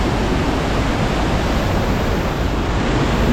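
A fast-flowing river swollen with high water over a washed-out road, a steady, dense rushing roar heard close and without pause, with no voices.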